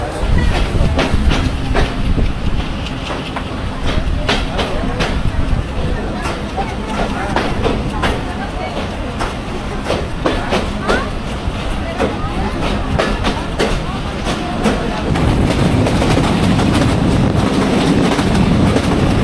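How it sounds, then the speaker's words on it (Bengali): A Mongla commuter train running from Benapole to Mongla, Bangladesh, pulls away and gets moving, a loud, continuous rumble with rhythmic clickety-clack of the wheels that grows heavier toward the end, with voices in the background. "অবশেষে ওঠানামা শেষ হলো, আমাদের ট্রেন এখন ছাড়বে।"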